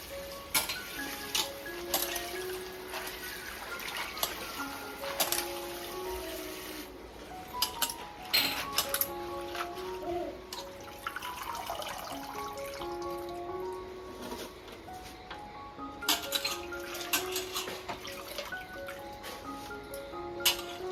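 Karadu leafy greens being rinsed by hand in a vessel of water: intermittent splashes, trickles and drips with soft clinks of the pot, close and fairly quiet, coming in irregular bursts with no speech.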